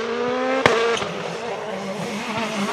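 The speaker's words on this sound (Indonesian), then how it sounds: "mobil balap" A white toy race car gives off a whirring, tonal motor whine that shifts pitch, with a sharp click near the start and a steadier buzz afterward.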